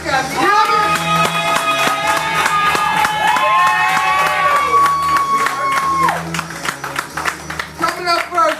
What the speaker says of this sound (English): this is a couple to clap for tonight, goddammit!